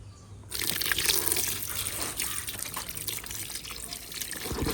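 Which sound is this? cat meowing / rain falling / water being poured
water being poured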